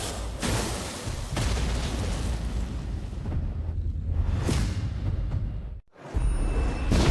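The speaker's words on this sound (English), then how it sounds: "What's that noise? Are those fireworks?" Repeated booming explosions like fireworks, loud, rumbling blasts with whooshing swells following one another, and a sudden brief drop to near silence before another boom.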